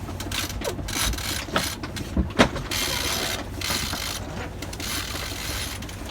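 Sailboat winch ratcheting as a line is worked with the sails up, giving a fairly steady run of small mechanical clicks with a few sharper ticks, close by over faint outdoor background.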